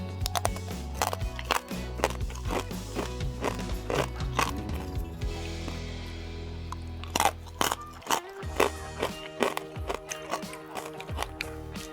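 Crispy pork belly skin, barbecued over oak wood, is chewed close up with a rapid run of sharp, crackling crunches and bites. A faint voice is heard briefly.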